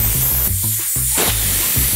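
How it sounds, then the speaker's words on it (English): Air hissing out of a bicycle tire on a through-axle wheel clamped in a wheel holder, a loud steady spray-like hiss that runs continuously for about two seconds, close to the mic, with no talking. "Let the air out."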